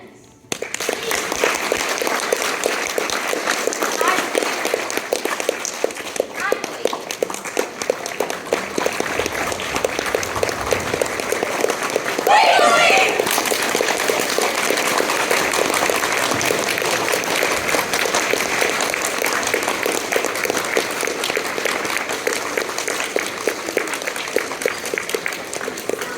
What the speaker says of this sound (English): If you believe in fairies, clap your hands.